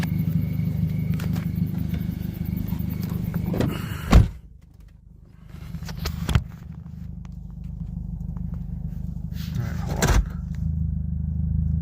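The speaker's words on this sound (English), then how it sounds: "Salakia, let me get back in my car." Someone climbs back into a car: a sharp door thump, then a second knock and a later clunk over a low engine idle and rustling, with a few quiet movements in between.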